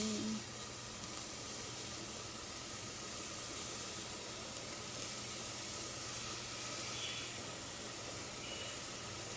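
Onions and oil for a mahshi sauce give a steady, even sizzling hiss throughout, continuous and fairly quiet with no break or change.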